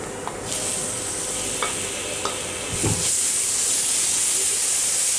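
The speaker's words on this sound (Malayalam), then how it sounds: "ഇനി ഇതിലോട്ട് അരിഞ്ഞു വച്ചിരിക്കുന്ന തക്കാളി ഇട്ട് കൊടുക്കാം" Chopped tomatoes hit hot fat in a pan for a fish curry made without coconut, bursting into a loud, steady sizzle with stirring scrapes and a few clicks, the frying intensifying after a sharp thump midway.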